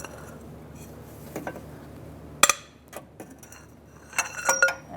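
A ratchet with a 12mm socket breaks bolts loose on a thermostat housing of a 2007-2012 Nissan Altima, giving a sharp metallic crack followed by quick clicking ratchet bursts in an otherwise quiet space.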